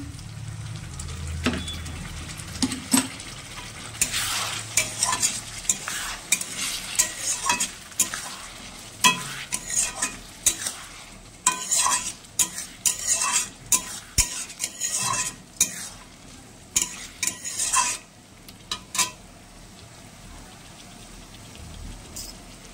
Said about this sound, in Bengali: দেখো এবার গরম জলটা অল্প অল্প করে ঢেলে কষাবো।